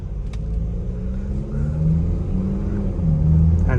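MG Gloster SUV in sports mode pulling away under part throttle, a steady loud engine drone and road rumble that swells gradually with no one speaking.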